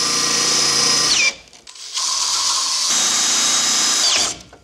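Cordless drill driving a screw while fitting a car bumper: a loud, close whine that winds down, pauses briefly, then runs again before stopping abruptly as the screw snaps.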